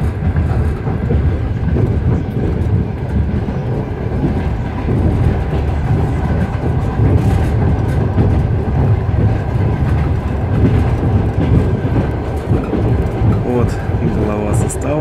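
The Rossiya passenger train from Vladivostok to Moscow crosses the bridge over the Selenga River near Ulan-Ude, heard from inside a car as a loud, unbroken rumble of wheels and rattling carriage.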